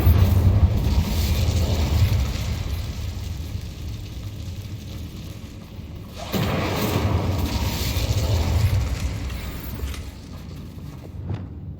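The Incendio fire spell in the Hogwarts Legacy video game, a roaring whoosh of flame over a rumbling background, rising again partway through and ending with a sharp crack.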